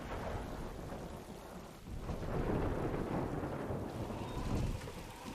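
A thunderstorm in a House of the Dragon episode: steady heavy rain with low rolling thunder swelling midway, alone with no voices.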